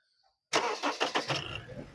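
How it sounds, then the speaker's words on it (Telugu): A petrol automatic 2011 Honda Accord engine cranks briefly and catches on a single start, then settles into a close, steady idle after a moment of silence. "ఒకసారి మీకు నేను ఇంజన్ కూడా స్టార్ట్ చేసి చూపిస్తాను"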